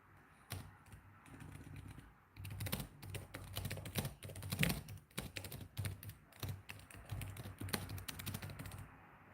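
Quiet typing on a computer keyboard, a run of quick, irregular key clicks in bursts with short pauses, close but soft, with no talking.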